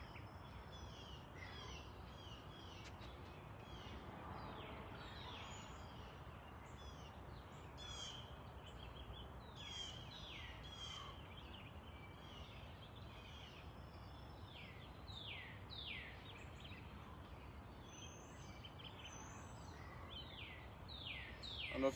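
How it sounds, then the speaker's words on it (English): Songbirds chirp and call outdoors with repeated short, bright phrases, some nearer and some farther, over a steady low background hum, with caw-like notes mixed in. "I don't know if you guys can hear the birds."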